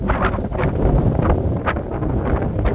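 Strong gusting wind batters an outdoor microphone on a road, a loud, rough rumbling roar that surges and buffets continuously with no talk.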